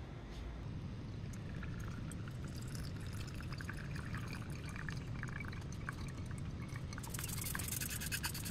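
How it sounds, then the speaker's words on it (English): Distilled water poured and splashed over PCBs while rinsing them during gold recovery from RAM fingers, a quiet continuous trickling and spattering with a louder rush of water at the end. "rinse all the PCBs with distilled water"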